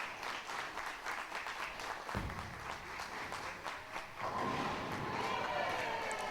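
Steady applause from a crowd at a bowling tournament, the 2019 QubicaAMF BPC Team Challenge, swelling a little louder toward the end, while a commentator's voice carries over it.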